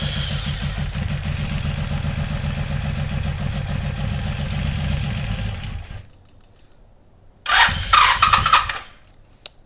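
A 1982 Honda Magna V45 motorcycle engine cranks and runs roughly for about six seconds, then drops away before another brief loud burst of cranking near the end.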